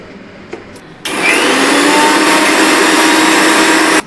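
A mixer grinder dry-grinds poppy seeds with a little salt, starting abruptly after a quiet moment with a loud, steady, high-pitched whirring roar that holds for about three seconds and then cuts off.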